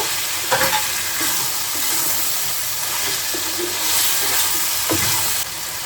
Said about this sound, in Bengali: জিরাগুলো দিয়ে নিচ্ছি এবার আর একটু কষাতে হবে